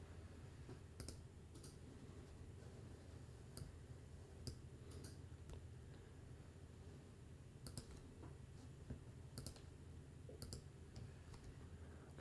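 A computer mouse clicks sharply in scattered single and double clicks against a quiet room background, close and crisp with irregular gaps between them.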